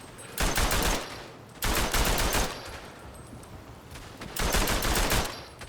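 A Chauchat light machine gun fires in the WW1 video game Verdun: three loud, close bursts of rapid, evenly spaced shots at a moderate rate, separated by short gaps with battlefield noise.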